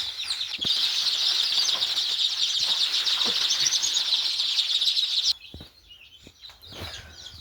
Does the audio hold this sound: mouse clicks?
no